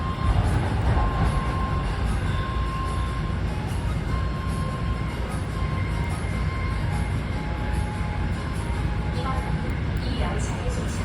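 A Gwangju Metro Line 1 subway train runs between Gwangju Songjeong and Pyeongdong stations, with a loud, steady rumble of wheels and motor and a faint tonal whine, heard from inside the car throughout.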